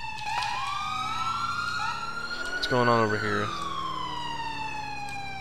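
Ambulance siren in the LCPDFR police video game wails continuously through the whole stretch, sweeping up and down in a steady, loud cycle with a brief horn-like blast in the middle, while someone speaks over it.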